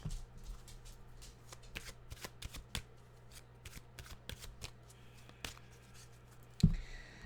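Tarot and animal oracle cards are shuffled close by, giving a long run of soft riffling and irregular card slaps, with a louder knock of the deck near the end and no talking.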